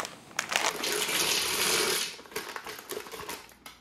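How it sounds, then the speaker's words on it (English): One pound of dry penne rigate pouring into a pot with melted butter, a close rattling cascade of hard pasta pieces that swells for about two seconds, then tapers into scattered clicks and settling. "Now add 1 pound or 16 ounces or 454 grams of penne regatta."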